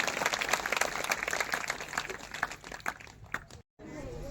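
Loud applause from a church congregation fills the space with dense, sustained clapping and voices, then cuts out briefly near the end before resuming.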